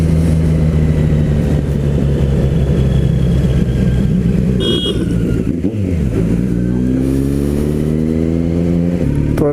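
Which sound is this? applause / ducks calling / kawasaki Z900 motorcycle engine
kawasaki Z900 motorcycle engine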